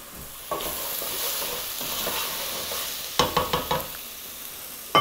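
Vodka sauce gets stirred in a pan, a spoon scraping in a few quick clicks and swishes over a low sizzle, with a short burst of scrapes near the end.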